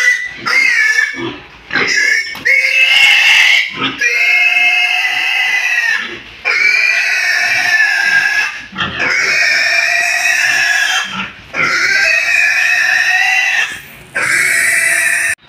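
Pigs in a rural province pen, ten of them sold and set for direct shipment to Cebu, squeal and grunt loudly and almost continuously in close, repeated high bursts with only short breaks.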